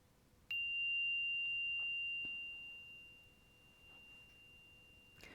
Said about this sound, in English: allow our bodies to take in a deep breath as we allow the resonance of this chime to sing